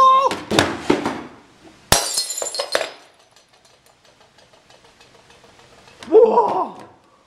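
Glass crashes and shatters in a loud burst, followed by scattered tinkling shards, with a voice exclaiming briefly near the end.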